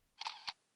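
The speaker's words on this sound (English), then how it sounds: "Shutter." A camera shutter sound effect: a short, crisp double click, two quick mechanical snaps about a quarter second apart, close and isolated against near silence.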